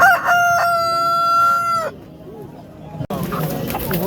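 A rooster at a poultry market in Namangan gives one loud, close crow lasting nearly two seconds. Quieter clucks, a sharp knock and general market bustle follow.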